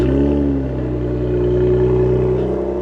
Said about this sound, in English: Now, this does have remote start, so let's take a listen.